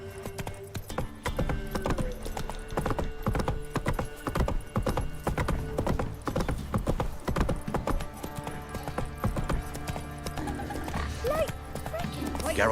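Geralt's horse Roach gallops in The Witcher III video game: rapid, close hoofbeats clatter steadily, a whinny rises near the end, and voices talk over the hooves.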